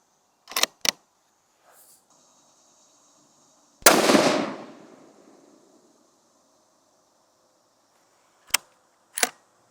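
A hunting rifle fires during an ammo accuracy test. One loud, sharp shot rings out with a long rolling echo, set among a few quieter sharp clicks and cracks with silence between them.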